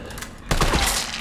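Gunfire in the video game Resident Evil 3 breaks out abruptly as a loud burst of overlapping shots and impacts after a quieter moment, then lingers as sustained noisy action.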